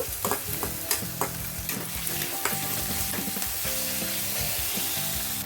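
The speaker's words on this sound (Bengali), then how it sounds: "এখন আমি যে ফিসটা ছাড়িয়ে রেখেছি ওটা আমি দিয়ে দিলাম দিয়ে এটাও ভালো করে কষিয়ে নেব" Fish pieces fry in ginger garlic paste for fish cutlets, a dense close sizzle with repeated spatula scrapes and clinks against the pan, plus a low steady hum beneath.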